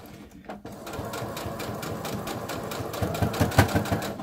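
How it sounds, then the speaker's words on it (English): A sewing machine with a walking foot stitches a seam to close a casing on a fabric dog bandana, giving a steady, fast mechanical chatter throughout, moderately close, which grows a little louder toward the end. "We want to sew right down this line right here, okay? To close this hole up."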